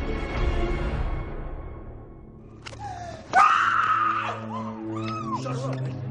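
A woman lets out a loud, close scream that wavers and breaks into wailing, pitched cries. It rises out of a dramatic musical backdrop with low rumbling tones.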